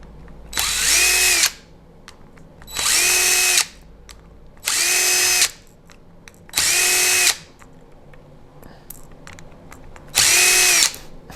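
A power drill spins off wheel lug nuts on a KLR motorcycle, five loud, close whirring bursts of a second or so each, separated by short pauses and faint handling sounds.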